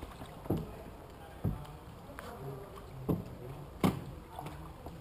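A gondola paddled through water, heard as faint, separate splashes and knocks of the oar at uneven intervals over a quiet background hum, with no talk.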